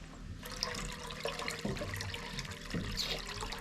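Water runs through a siphon hose at an off-grid cabin, a soft, steady trickling and gurgling flow heard close but faint, with no talking.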